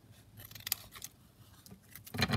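Scissors snip a magazine page piece close by, a few quiet crisp cuts in an otherwise hushed room.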